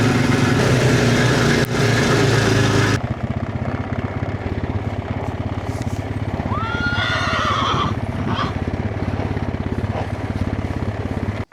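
A horse whinnies loudly with a rising, wavering neigh, over a steady engine-like rumble and faint hoof clops nearby.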